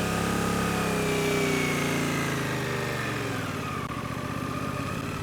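A motorcycle engine runs close and steady, its tone shifting slightly as the bike pulls away from a stop into a sharp turn, a continuous buzzing drone without speech.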